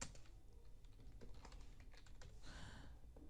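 Typing on a computer keyboard while entering registration details into an online form for a charity foundation in Pakistan; quiet, steady clicking of keys in irregular bursts, close and alone with no talk.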